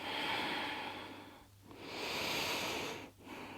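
Slow, deep breaths held in an extended side angle yoga pose, two long inhale-exhale cycles heard up close, each a soft airy rush separated by brief quiet pauses.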